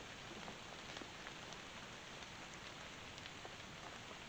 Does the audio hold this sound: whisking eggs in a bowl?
no